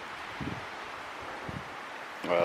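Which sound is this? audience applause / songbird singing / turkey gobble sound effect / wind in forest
wind in forest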